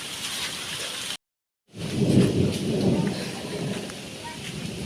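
Heavy rain pours down in a dense steady hiss during a storm, with a deep rolling swell of thunder after a short silent gap.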